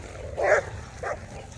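Excited Rottweilers just let out of their kennel give a short whining yelp and then a softer second whimper over quiet background noise.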